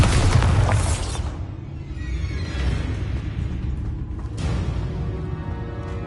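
The Bombarda explosion spell goes off in a Harry Potter video game as a loud, heavy boom that trails into a rumbling tail, followed by a second softer whoosh and rumble.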